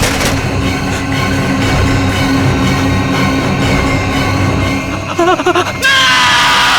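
A man screams loudly and continuously over a dense, roaring background noise, and his voice rises into a wavering, strained cry near the end.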